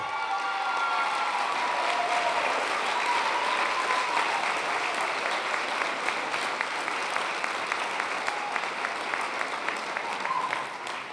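At an awards dinner, the crowd applauds an honoree with sustained, dense clapping that swells early and holds steady for about ten seconds, a few sharper individual claps standing out near the end.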